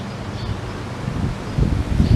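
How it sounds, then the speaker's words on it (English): Strong wind gusts across the microphone on a backyard deck of a suburban home, a broad rumbling roar that swells louder near the end with faint rustling of leaves. "it's very windy today."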